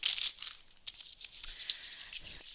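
Bamboo-blend yarn pulled from a plastic bag gives crisp crinkling and rustling bursts, close and fairly quiet, uneven with short pauses between handling noises.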